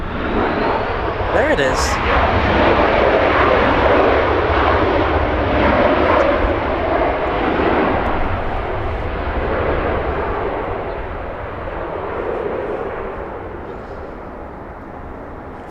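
A Boeing Dreamliner jet takes off at Los Angeles International Airport, its engines giving a loud, sustained broadband roar that swells and then slowly fades as it departs, with people talking briefly over it.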